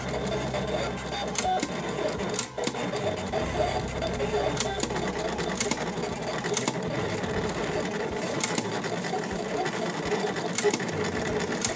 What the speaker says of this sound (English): And the cutter's going to town on it. Making all sorts of nice little sounds.